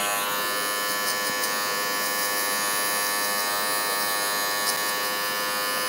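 Zero-gapped hair clippers working a trimmer line on a mid skin fade, a steady, loud, close electric buzz held throughout with no talking.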